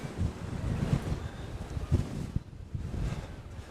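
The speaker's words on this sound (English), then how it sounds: "On the seafront, it is a bit windy. Hopefully you can pick it up" Steady wind buffets the microphone with low rumbling gusts on the seafront at Burnham-on-Sea, with faint surf in the background and no voices.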